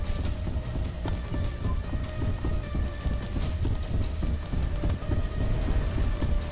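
Footsteps in the Roblox horror game Doors approach in a steady, regular thudding rhythm, heavy and low and fairly loud, with no talking over them.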